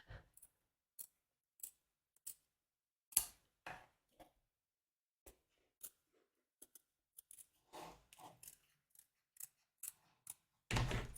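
Scissors make a series of sparse, crisp snips while cutting fabric away from embroidery, with quiet pauses between cuts and a louder final snip, recorded up close with no voices.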